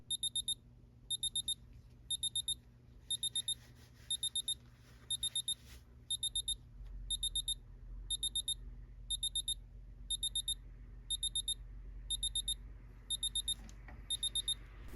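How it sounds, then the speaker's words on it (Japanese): A Tissot PRX Digital watch alarm beeps in quick bursts of four, repeating steadily about once a second, high and thin over a quiet hum. "設定した時刻になるとアラーム音が30秒間になります。"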